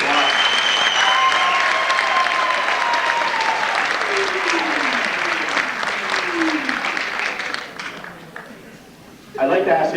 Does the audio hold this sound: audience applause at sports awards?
yes